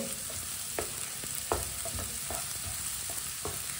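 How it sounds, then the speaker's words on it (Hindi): Finely chopped onion fries in a pan while a spoon stirs it, a steady crackling sizzle broken by a few sharp scrapes and clicks, close and alone with no talk. "1 बारीक कटा हुआ प्याज, प्याज को 1 मिनट के लिए पका लेंगे चम्मच चलाते हुए।"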